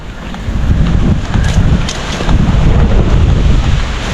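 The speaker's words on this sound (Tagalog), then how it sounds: "Taas ng hangin" Loud, roaring wind buffeting the microphone, a constant heavy rumble with no voices.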